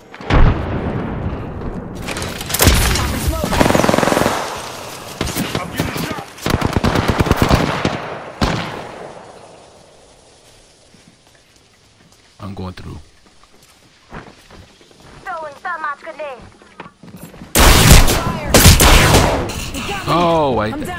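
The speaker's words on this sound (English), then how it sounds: "Where are they shooting from?" Gunfire in the Apex Legends video game: dense bursts of rapid automatic fire and heavy booms in close, loud volleys, a quieter lull, then more shooting, with voices talking over parts of it.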